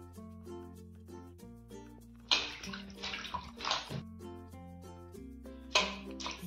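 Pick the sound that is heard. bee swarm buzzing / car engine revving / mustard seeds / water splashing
water splashing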